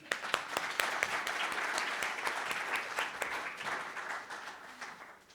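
An indoor conference audience gives a short burst of steady applause, many hands clapping together at moderate volume before it tapers off.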